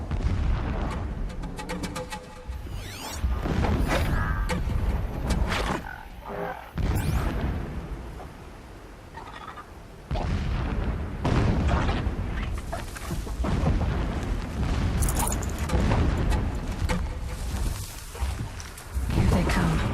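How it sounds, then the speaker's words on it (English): Explosions and artillery-like booms in the video game Horizon Zero Dawn, a series of deep rumbling blasts and bursts that come one after another at irregular intervals, heavy and reverberant rather than close and sharp. "Explosions in the distance."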